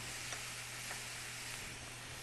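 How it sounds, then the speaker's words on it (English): A hot pan hisses in a steady, even sizzle as it is deglazed, with a couple of faint sharper spits. "Now I'm deglazing the pan"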